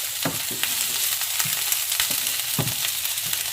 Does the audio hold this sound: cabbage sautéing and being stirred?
yes